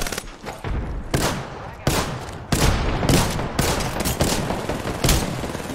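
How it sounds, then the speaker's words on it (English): Gunfire from the video game Apex Legends comes in loud, rapid bursts of automatic shots, several volleys close together with brief gaps between them. "I'm taking fire, friends."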